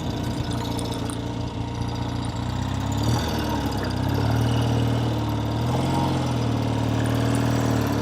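A vintage 1970 Triumph TR6R motorcycle engine runs steadily at close range, a constant mid-to-low throb with no talk.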